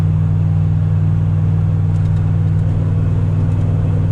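A 2000 Ram 1500 pickup with big tires and a 4.56 gear swap cruises in overdrive at 73 mph on a slight downhill, a steady loud low engine and road rumble heard from inside the cab.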